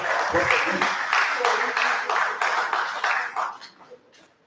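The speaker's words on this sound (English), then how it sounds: "A round of applause." Audience applause breaks out at a lecture on publication ethics, a dense run of clapping that carries for a few seconds and then thins into scattered claps, with a voice rising over it.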